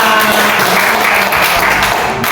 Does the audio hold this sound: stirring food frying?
no